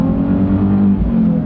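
A Nissan 370Z with a muffler delete, driven in the rain, gives a loud, close, raspy engine drone with a strong low exhaust rumble that holds steady through the short burst of acceleration.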